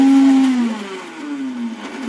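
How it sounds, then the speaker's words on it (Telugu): A kitchen mixer grinder whirs at high speed as it purees cooked bottle gourd pieces for a pickle, the motor pitch sliding downward as the load shifts, loud and close with no talk. "ముక్కల్ని మెత్తగా గ్రైండ్ చేసుకోవాలి."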